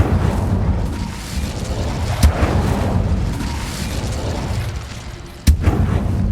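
Fire spell blasts in the Hogwarts Legacy video game, two sharp booming bursts over a dense rumbling, crackling game soundscape.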